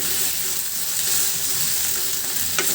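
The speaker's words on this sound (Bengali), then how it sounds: "এইভাবে চামচ দিয়ে একটু নাড়তে হবে।" Mashed eggplant bharta stirred with a spoon in a pan, giving a continuous close sizzle with soft scraping, plus a brief sharp clink near the end.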